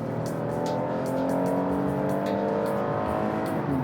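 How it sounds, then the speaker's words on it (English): A 2015 Kia Sorento SX with its V6 engine and automatic transmission accelerating, a steady rising engine drone with a smooth harmonic tone, fairly quiet and constant for about four seconds with no speech. "A very good sounding V6."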